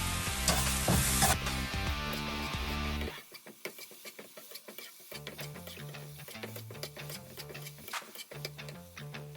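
Masala with salt and pepper is stirred in a pan for deviled eggs: light sizzling with scattered spoon scrapes and clicks, nearby and soft, running under tonal background music that briefly drops out partway through.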